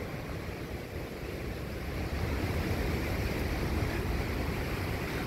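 Ocean waves rolling onto a beach at night, a continuous low roaring wash with a swell that grows louder partway through, mixed with wind rumble on the microphone and no voices.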